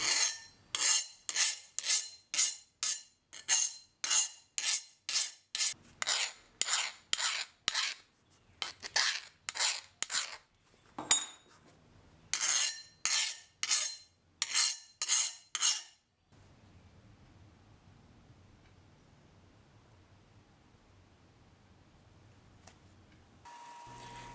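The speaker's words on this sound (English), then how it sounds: "I will check it with a file to make sure it's hardened" Rapid, rhythmic rasping strokes of a file scraping a hardened steel camping knife blade before tempering, about twenty harsh passes in a row, then a pause and a quiet low hum.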